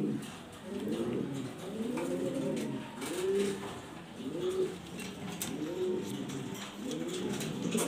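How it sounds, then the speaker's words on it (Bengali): Black exhibition-quality pigeons, a breeding pair, coo repeatedly in a steady series of soft, rolling, low calls, close by and alone with no talk. "অনেক সুন্দর কবুতর, ডিম বাচ্চার জন্য সেরা।"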